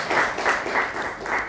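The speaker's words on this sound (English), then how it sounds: "A round of applause for the panel." Brief burst of audience applause for a discussion panel, a short, moderately loud wash of clapping in a roomy space.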